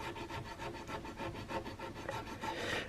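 A hand file rasps across the wood of a flintlock rifle stock during carving, giving rhythmic back-and-forth scraping strokes at about three per second, close up and fairly quiet, with no voices.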